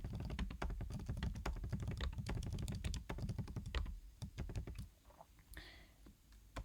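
Quick, dense clatter of keys on a computer keyboard, close and steady for several seconds, then slowing to a few scattered taps.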